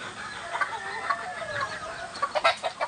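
A black pumpkin hatch gamefowl rooster, muddy after rain, gives a few close clucks and short calls, ending in a quick run of sharper clucks.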